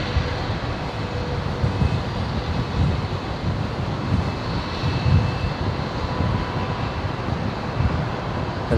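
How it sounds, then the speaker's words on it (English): Qantas Link Dash 8 turboprop airliner from Canberra touching down at Brisbane Airport, a steady loud propeller and engine roar with low rumbling pulses and a faint tonal whine, no voices. "8:58, touching down, another Dash 8 from Canberra."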